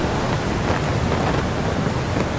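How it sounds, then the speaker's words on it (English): Heavy rain pours down steadily during a severe storm in the Gulf region, with a dense, loud roar of downpour and rumbling thunder underneath, continuous and close, with no speech. "The storms are accompanied by heavy downpours, strong winds, and possible hail."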